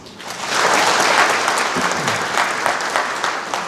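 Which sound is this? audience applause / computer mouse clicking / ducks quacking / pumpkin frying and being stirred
audience applause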